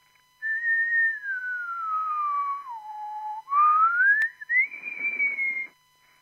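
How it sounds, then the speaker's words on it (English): A person whistles a single clear, sustained tone close into a microphone, gliding slowly down in pitch, then sweeping back up and holding high, with short breaks between phrases and no talking. "So if I whistle"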